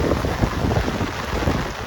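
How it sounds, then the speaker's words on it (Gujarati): Heavy rain pours down in a city street while strong wind gusts through it, making a dense, continuous roar of loud, close downpour with no break or talk. "કેવો વરસાદ આવ્યો હોય છત્રી હાથમાં નથી રહેતી"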